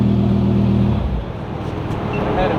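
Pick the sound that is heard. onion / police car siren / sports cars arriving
sports cars arriving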